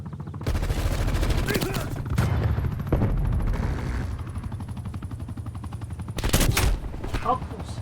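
Hostile sentry turrets in a video game firing rapid automatic bursts, dense sustained gunfire with brief pauses and a sharp louder volley near the end.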